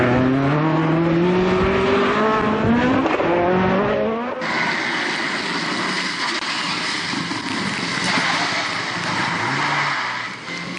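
Rally cars at the Legend Fires North West Stages, from World Rally cars down to small hatchbacks, race through a stage in the rain: a loud engine revs and climbs through the gears, then gives way to a harsh, sustained roar of tires and spray.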